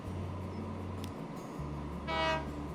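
A train leaves the depot in Transport Fever 2 with a low engine drone and a bright horn blast near the end, no talk over it.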